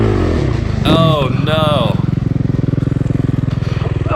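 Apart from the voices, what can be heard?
Suzuki RMZ450 dirt bike engine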